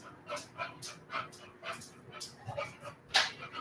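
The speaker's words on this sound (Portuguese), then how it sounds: "a minha cachorra quer entrar" A pet dog whimpers and whines at a door, wanting to come inside, in a string of short high-pitched cries repeated every half second or so, fairly quiet and close, with a louder yelp near the end.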